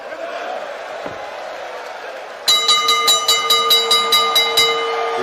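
Ringside ten-second warning at a Fight Night 13 boxing match at the Bukom Boxing Arena in Accra: about eight sharp, ringing knocks at a steady rhythm, loud and close, breaking in over a continuous crowd murmur.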